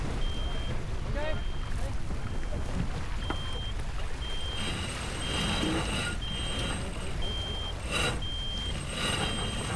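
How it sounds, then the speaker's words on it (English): A sailboat's shallow water alarm beeps repeatedly in a regular on-off rhythm while racing on the water, clear and fairly loud over wind and boat noise, with people talking nearby. "There goes Sundragon's shallow water alarm."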